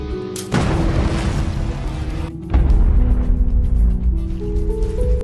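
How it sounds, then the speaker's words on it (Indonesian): A loud explosion of a booby-trapped building bursts suddenly, followed by a deep rumbling roar that swells again and lingers heavily. "suara keras ledakan yang ditimbulkan"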